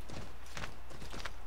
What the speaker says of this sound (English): It looks like the horse doesn't mind tall snow,